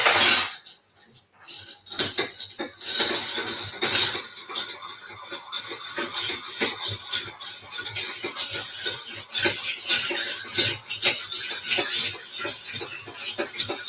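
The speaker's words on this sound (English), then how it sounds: "Let's stir this sucker." Cutlery scrapes and clinks against a metal pot as a drink with nut liqueur is stirred, in a fast, continuous, irregular rhythm, close and clear, following a brief pause.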